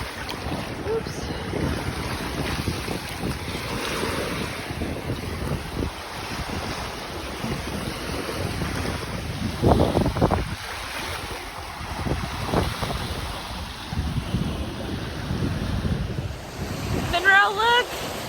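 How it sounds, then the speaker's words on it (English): Wind roars across the microphone while surf breaks and washes in on Miami Beach, a steady broad rush that swells in a few louder pulses; no voices come through. "I'm at the ocean!"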